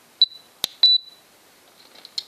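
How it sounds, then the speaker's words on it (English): A Spektrum DX6i radio transmitter gives several short, high electronic beeps as its timer switch is flipped, close and clear against near silence, with a few faint button clicks between them. "when I hit the switch, it beeps at me, and it starts timing"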